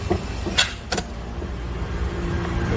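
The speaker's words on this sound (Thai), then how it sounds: "เวลารถใส่เกียร์พีปุ๊บ มันจะดังแบบนี้อ่า" Two quick mechanical clunks close together inside a Toyota automatic as it shifts into park, followed by a steady low engine idle hum.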